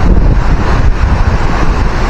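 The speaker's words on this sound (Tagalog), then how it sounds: "Kumakalabog-kalabog sa lakas ng hangin." Fierce typhoon wind batters the shore where a small fishing boat rocks and knocks, a loud continuous rushing roar with dull thuds buried under the gusts.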